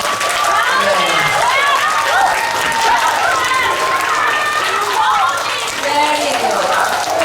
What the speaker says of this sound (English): rest of the children clap for UKG class